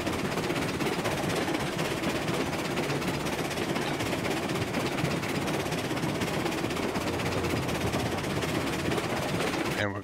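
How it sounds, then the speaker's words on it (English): A freight train backs slowly into a siding in the railroad game Railroads Online, giving a steady, dense rumble and clatter of rolling cars that runs loud and unbroken throughout. "We're gonna back this train in."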